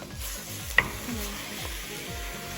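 Ground meat for lasagna, seasoned with onion powder, is stirred and broken up while browning in a pan: a continuous sizzle with rhythmic scraping strokes and one sharp utensil tap, close and without talk.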